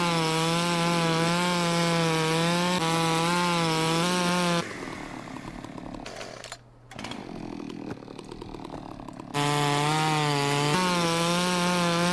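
Stihl chainsaw felling a tree in Farming Simulator 17, a loud steady whining engine that drops into a rougher cutting tone mid-way, briefly cuts out, then returns to full revving.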